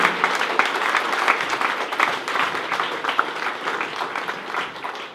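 Wedding guests applaud after a toast, a lively burst of many hands clapping close by that holds steady for several seconds before tapering slightly.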